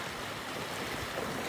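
A village waterfall rushes in a steady, dense wash of flowing water, constant and fairly loud at close range for a brief moment, with no voices.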